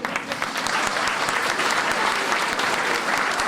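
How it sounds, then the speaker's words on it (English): An audience at a sixth-grade school orientation applauds, a full, continuous burst of many people clapping close by, steady throughout the few seconds without any voice on top. "You can applaud me on this one."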